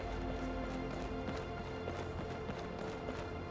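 Horse hooves clip-clop in a steady trotting rhythm in the fantasy video game Skyrim (Beyond Skyrim), quiet and fairly close, repeated hoof taps with faint background ambience.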